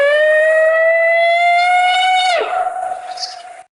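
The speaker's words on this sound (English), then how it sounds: "primitive sounding words being screamed out along with the howling" A sustained, loud, rising wail with strong harmonics, then it breaks into rougher, wavering cries that fade out, echoing slightly as if outdoors.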